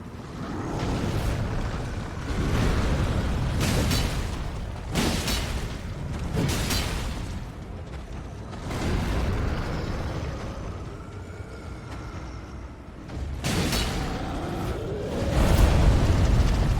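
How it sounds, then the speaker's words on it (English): Fire explosions in a video game, triggered by a giant wielding a flaming sword, come as a series of loud, rumbling whooshing blasts that repeat every few seconds over a constant roaring background. "Oh, it's a fire explosion."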